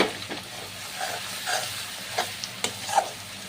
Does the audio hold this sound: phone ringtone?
no